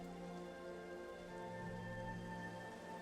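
Rain falling in the Minecraft video game, a soft steady patter that stays even and faint from start to finish.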